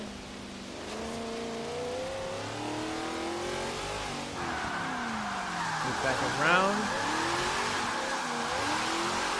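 A Hoonigan Napalm Nova drift build revs hard and slides through wet corners in Forza Horizon 3's rain, its engine note climbing and dropping between shifts as tires squeal mid-drift, while someone talks briefly over it.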